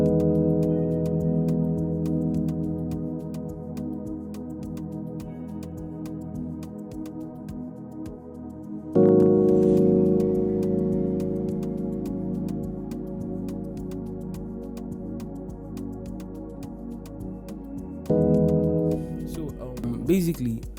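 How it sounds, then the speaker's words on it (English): Sustained electric piano and pad chords from FL Studio change in a slow progression, a warm, full layered sound that shifts chord roughly every nine seconds and plays alone. "we have an E piano and a pad"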